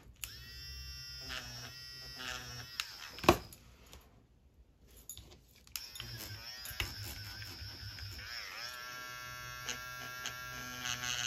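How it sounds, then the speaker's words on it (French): Small electric eraser used on an adult coloring page, a thin steady buzz running in several bursts with brief pauses, close and quiet, with light rubbing against the paper. "Alors avec la gomme électrique, il faut faire attention que la gomme soit propre."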